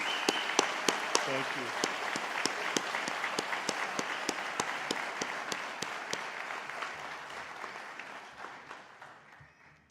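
Audience applause at a university graduation convocation ceremony, a dense sustained wash of many hands clapping that gradually fades toward the end, with a brief spoken phrase over it.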